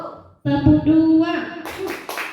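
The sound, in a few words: group clapping twice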